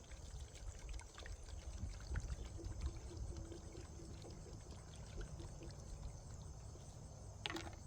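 Pure sugar water poured and dribbled into a beehive top feeder on a hive, a steady close trickle running throughout with soft splashing and a brief sharper spill near the end.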